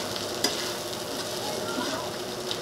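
Shrimp sauté in a pan with lemon soda and oyster sauce, a steady bright sizzle with occasional stirring scrapes and pops, close and continuous.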